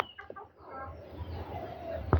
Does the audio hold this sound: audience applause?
no